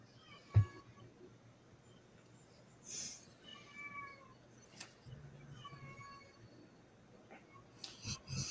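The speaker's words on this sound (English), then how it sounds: "Sounds like the cat's a little bit upset that nobody's paying attention to it." A cat meows a few times in a quiet room, faint and somewhat distant, with irregular pauses between the plaintive calls and a soft thump early on.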